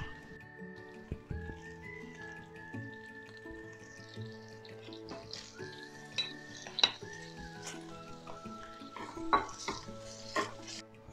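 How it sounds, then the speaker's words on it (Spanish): Shrimp drop into a pan of olive oil and the juices left from fish cooked earlier, frying with a steady sizzle under clinks of a utensil stirring against the pan and occasional dish knocks, all close up with no talk. "en este mismo aceitito que le habíamos puesto ya de oliva y lo que soltó, vamos a poner los camarones"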